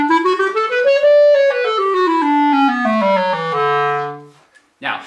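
Major scales played on a band instrument, a single clear wind tone stepping up and down through the notes in an even, continuous line, up close and alone.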